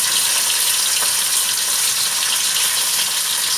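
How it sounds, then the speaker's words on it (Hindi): Fish pieces shallow frying in hot oil in a frying pan give a loud, continuous dense hiss and crackle that stays close and even throughout. "मैं एक ही करके फिश डालती जा रही हूँ।"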